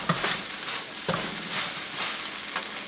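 Beef fried rice with egg stirred and tossed in a hot wok, a steady sizzle with scraping strokes of the utensil against the pan, close and clear with no talking.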